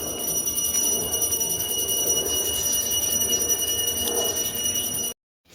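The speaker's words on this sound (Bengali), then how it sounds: "ট্রেন যাচ্ছে।" A train rumbles past in a steady, loud roar with faint high metallic ringing over it, then the sound cuts off abruptly.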